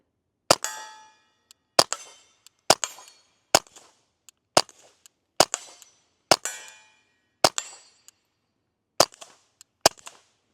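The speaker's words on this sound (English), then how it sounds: "So right there we are shooting the 22, or the, the CCI standard." Ruger Mark IV 22/45 Lite pistol firing CCI standard .22 rounds: about ten sharp, close, evenly spaced shots, each a crisp crack with a short ringing tail and faint clinks between.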